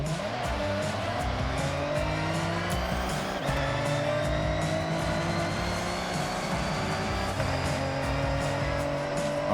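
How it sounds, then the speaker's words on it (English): A V8-engined car in Forza Horizon 6 roars loudly and continuously, revs rising and falling through gear changes, with tires squealing as it slides through turns. "Nothing like the sound of a V8 engine, man"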